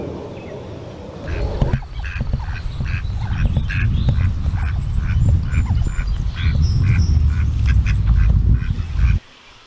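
Adult ducks quack and honk in a busy, loud flock close by, with rapid repeated calls over a rumbling background for most of the stretch before it cuts off abruptly.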